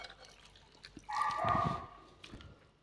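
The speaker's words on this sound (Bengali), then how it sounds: "জল দিয়ে গ্রেট করা আমটা ভালোভাবে ধুয়ে নেব" Grated raw mango being rinsed under running water in a strainer, a brief splashing wash swelling in the middle and fading out, close and fairly quiet.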